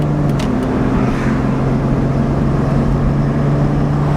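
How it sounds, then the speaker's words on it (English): A BMW Z4 roadster, about fifteen years old, driving on the road with its engine giving a steady, loud low drone and a constant hum throughout, with no voices. "so I'll give it a little gas right now"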